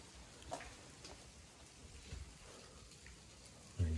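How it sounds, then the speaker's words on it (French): Rain falling outside an abandoned building in a deserted hamlet, a faint steady hiss of drops heard from indoors, with a few soft thuds and a brief low bump at the end. "Ça commence à bien pleuvoir dehors."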